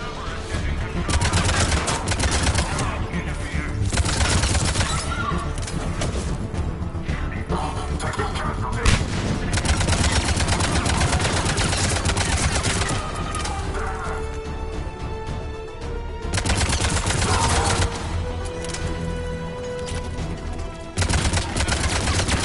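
Sustained gunfire in the Mass Effect 3 video game rings out continuously at high volume for the whole stretch, mixed with a busy combat soundtrack and game effects.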